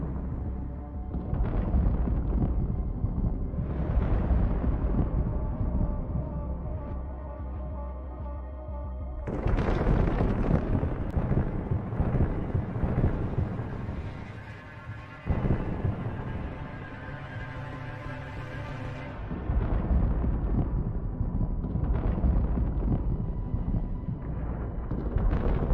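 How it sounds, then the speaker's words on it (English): A Buratino multiple launch rocket system burns and detonates as its thermobaric munitions go off, a long continuous roar of rumbling blasts and crackling bursts, with a few surges in loudness, heard from a distance across the whole span. "It seems to shine brighter and brighter, ultimately detonating due to the thermobaric munitions on board."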